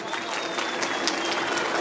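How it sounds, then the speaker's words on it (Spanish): A crowd at a live comedy show in Ambato, Ecuador breaks into loud, dense applause, a continuous wash of many hands clapping with faint cheering underneath. "Un fuerte aplauso para ustedes mismos, señoras y señores"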